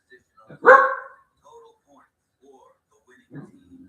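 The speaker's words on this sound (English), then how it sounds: "Now my dog is gonna cry like a girl." A dog named Olaf gives one sharp bark, followed by faint whimpering whines and a soft low whine near the end, with quiet breathy sounds between.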